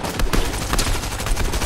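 AI enemies in the Fortnite video game fire their guns in rapid, dense bursts of gunfire, loud and close, with no pauses between shots.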